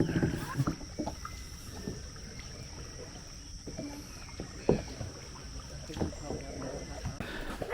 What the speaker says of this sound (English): it's hard to film and paddle